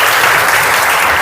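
Audience applause fills a career counselling talk, a dense, loud wash of clapping that runs steadily without a break.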